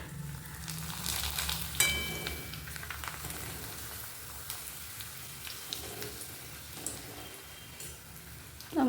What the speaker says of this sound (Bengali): রান্নাঘরে চলে এসেছি, এবার পাঁপড় ভাজবো